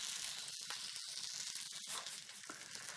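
Cactus paddles frying in a pan, a steady, bright sizzle that crackles and hisses continuously at close range, fairly quiet overall.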